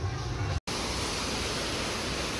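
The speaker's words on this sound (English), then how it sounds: "The waterfall." A waterfall roars as a steady, dense broadband rush, close and continuous, briefly cut by a short silent gap near the start. There is no talking.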